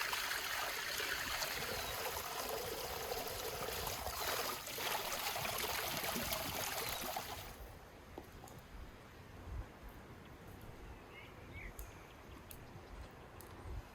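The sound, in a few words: rinsing sour cherries with water in a wooden colander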